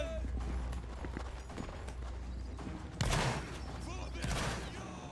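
Musket volley fire in a Roblox Napoleonic Wars battle: a dense crackle of shots bursts out around the three-second mark and again near the end, over steady game noise and marching or hoofbeat clatter, with voices chattering underneath.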